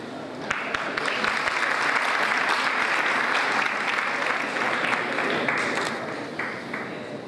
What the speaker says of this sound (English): Applaud and celebrate, because this is an important day in your life.